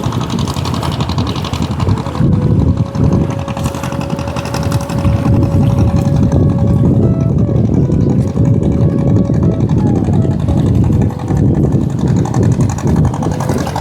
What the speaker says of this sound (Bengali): ওই দূরে একটা নৌকা যাচ্ছে।